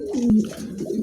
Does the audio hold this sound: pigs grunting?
no